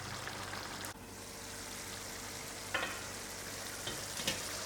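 An egg and potato curry cooks in a pot on the stove, making a soft, steady bubbling sizzle with a faint click early on and a few light taps and stirs.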